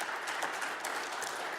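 Audience applause, a steady wash of many hands clapping together, moderately loud and continuous through the short stretch with no voices on top.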